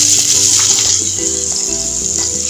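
Chopped bottle gourd hitting a hot pan of oil with dried red chilli, a continuous bright sizzle with soft clinks and stirring knocks underneath, close and steady.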